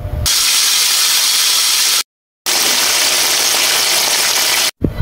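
Loud, steady sizzling of chicken frying in hot oil, a broad hiss that cuts out briefly twice.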